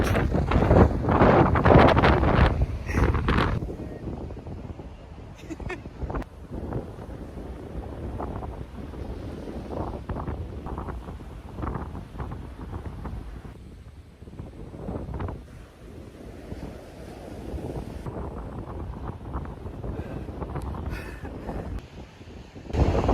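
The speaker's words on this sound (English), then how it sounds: "Once again, it's so windy" Strong wind roars across a microphone at the seaside where huge waves roll in, a steady loud buffeting rumble with gusty surges throughout and no talk.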